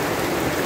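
Dense, steady hiss of rain falling, close and even, with no voices.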